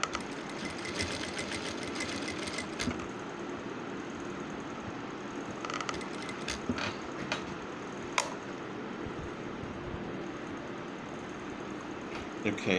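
A sewing machine running a decorative stitch along neck piping, a steady close mechanical whirr with brief pauses and clicks, while a person speaks briefly over it.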